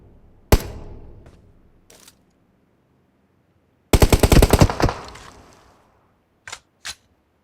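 Gunfire in a shooter video game: a single loud shot, then a fast automatic burst of about a second, followed by two more sharp shots, with silent gaps between, no voices.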